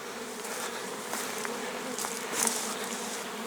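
Dense, steady buzzing of many bees swarming around hives at an apiary, continuous and fairly close, with no talk over it.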